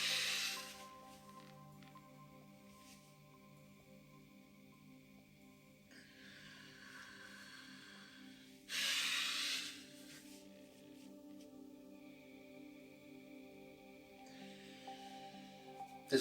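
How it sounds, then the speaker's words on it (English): Pranayama breaths exhaled during a Maha Bandha practice come as a few soft, breathy hisses spaced several seconds apart. They are faint and sit over a quiet, steady background hum. "This was 2 breaths."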